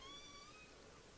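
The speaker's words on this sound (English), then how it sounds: "Sorry if you hear my cat in the background." A domestic cat lets out a single drawn-out meow, faint and in the background against a steady hiss.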